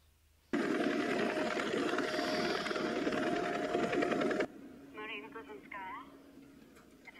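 A loud, steady mechanical roar like a helicopter holds for about four seconds, then stops abruptly, leaving quieter voices and background sounds.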